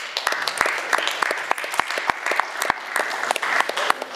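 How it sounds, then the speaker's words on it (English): A modest audience at a student federation debate gives a round of applause, distinct individual claps standing out within a brisk, fairly close clapping texture that carries on steadily. "a round of applause for everybody here"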